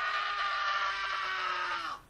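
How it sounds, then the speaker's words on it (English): A single male scream, loud and close, holds strong and steady for about two seconds before cutting off abruptly, with no other sounds around it. "This is Male Scream 3."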